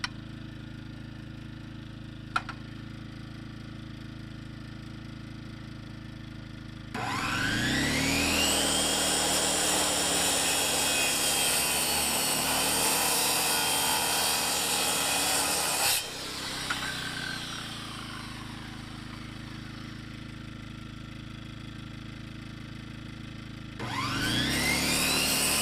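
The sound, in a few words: cutting with a tool while working in the garden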